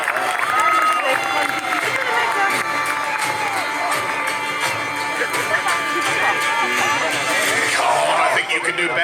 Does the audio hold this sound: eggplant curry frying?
no